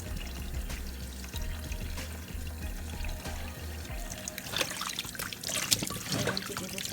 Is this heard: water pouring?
yes